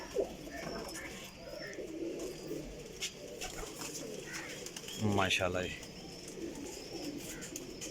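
Pigeons coo nearby, one clear throaty burst standing out amid soft ambient noise, while someone speaks briefly.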